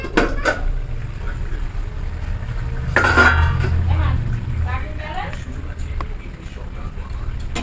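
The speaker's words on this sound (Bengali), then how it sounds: "একটুখানি ঢাকা দেব যাতে জলটা তাড়াতাড়ি ফোটে।" A metal lid is set onto a cooking pot of fish curry with raw tomatoes, giving a sharp clink and clatter around the middle, with lighter utensil clinks before and after and faint kitchen hiss underneath.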